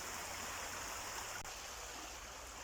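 Fast water rushes over a shallow river riffle in a steady, even hiss, continuous and unbroken for the whole stretch with no voices.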